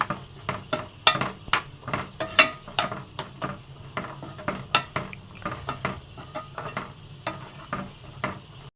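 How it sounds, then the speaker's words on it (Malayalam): Green pea curry being mixed in a pot, a series of close, sharp metallic clinks and scrapes of a spoon against the vessel in an uneven rhythm, with no talk. "ഇനി നന്നായിട്ടൊന്ന് മിക്സ് ചെയ്ത് കൊടുക്കാം."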